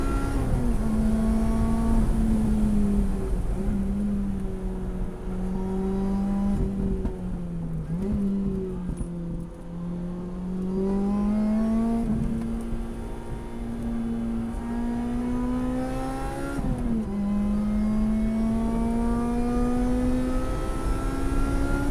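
A 2007 Lotus Exige S220 drives on a track, its engine note loud and close, rising and falling through gear changes and throttle lifts, with steady whine and road noise throughout and no talking.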